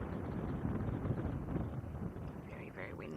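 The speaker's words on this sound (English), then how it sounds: "can you hear the wind?" Strong wind gusts across a microphone at a safari game reserve, a loud, steady rumbling roar that fills the short stretch, with a faint voice partly buried beneath it.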